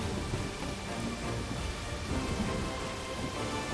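Thunderstorm and rain sound effect played during an online Pathfinder tabletop game session: a dense, constant hiss of rain with low rumbling underneath, steady and fairly loud, with no voices.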